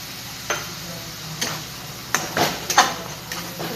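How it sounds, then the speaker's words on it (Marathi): Masala being sautéed in oil for a drumstick vegetable curry, with a faint steady sizzle under sharp scraping stirs of a spatula against the pan, several strokes clustered toward the end, close and moderately loud. "आता चांगलं एकजीव करून घ्यायचा आहे आपल्याला म्हणजे परतून घ्यायचा आहे हा मसाला"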